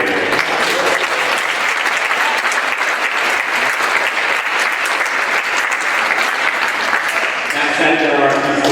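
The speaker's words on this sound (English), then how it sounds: "a round of applause for the entire 8th grade" Loud, continuous applause fills a school band and orchestra concert audience space, dense clapping holding steady for several seconds, with a voice starting to speak near the end.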